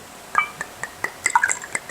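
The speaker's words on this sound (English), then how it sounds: "Okay, first pour of the Nowadays" A canna-infused Nowadays drink being poured into a glass, a short run of light drips and liquid splashes with small glassy clinks, close and fairly quiet.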